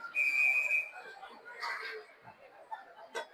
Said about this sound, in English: the whistles on the other ice seem to be louder